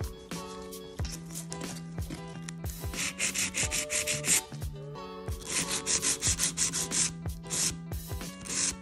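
A nail file rasps against acrylic nails while shaping them into a tapered square, giving close, soft scratchy strokes in quick bursts and rhythmic back-and-forth runs, with small tapping handling noises and no talking.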